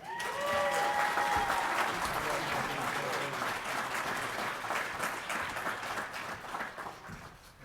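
Sustained audience applause at a graduation ceremony for welding graduates from a technology institute, a dense wash of many hands clapping that stays loud throughout and eases slightly toward the end, with a brief voice audible early on.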